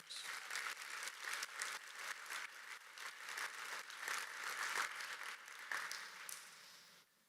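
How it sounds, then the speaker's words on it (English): A conference audience gives a big round of applause for presented innovation stories: fairly quiet, steady crowd clapping with uneven surges, continuing for several seconds before cutting off sharply. "How about one more big round of applause for all of those 4 innovation stories?"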